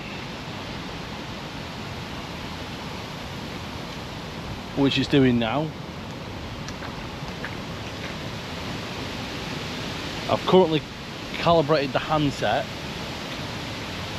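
Wind buffets a microphone beside a lake during a carp bait boat setup, a constant loud rushing roar that fills the whole scene while someone speaks over it in a few short bursts.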